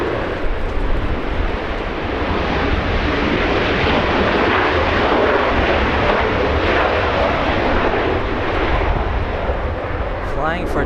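Alaska Airlines flight 1048, a jet arriving from Seattle at LAX, a loud continuous broadband engine roar holding steady throughout, close and dominant.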